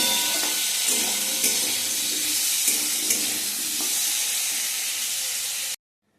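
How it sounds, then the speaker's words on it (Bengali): Potatoes frying in hot oil with salt and turmeric give a steady, close, dense sizzle with a few brief stirring clicks. The sizzle stops abruptly near the end, leaving silence. "একটু নুন হলুদ দিয়ে আমি আলুটাকে প্রথমে ভেজে নিচ্ছি"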